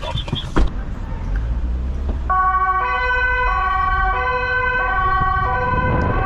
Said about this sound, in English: De sirens sound way different too.